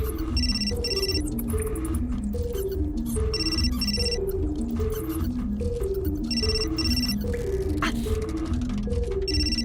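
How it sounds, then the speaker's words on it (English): In the video game Still Life 2, a phone rings in repeated electronic bursts with short gaps between them, clear and moderately loud over a low background hum. "My phone. Must be McPherson."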